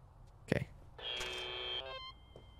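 A telephone rings in the burger-restaurant video game Happy's Humble Burger Farm, a sharp knock followed by one long electronic trilling ring that stops abruptly, leaving a faint tone, with brief voice sounds around it.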